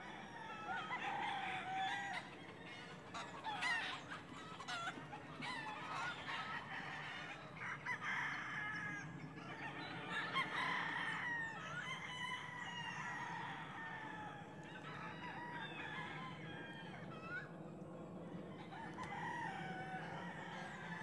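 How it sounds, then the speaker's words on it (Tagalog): A rooster crows repeatedly amid steady clucking from a flock of chickens, a dense, continuous barnyard chorus heard at moderate distance. "napakaganda ng manok na yan"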